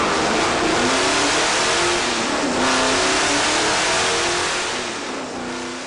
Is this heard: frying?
no